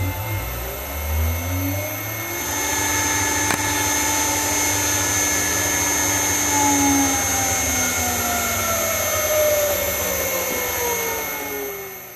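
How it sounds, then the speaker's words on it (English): A mini lathe upgraded with a 3HP motor on a variable frequency drive spins up its spindle, a loud steady whine with rising and falling tones as the speed changes, running continuously with no talking. "I'm very happy to see the lathe spinning"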